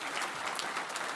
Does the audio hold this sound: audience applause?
yes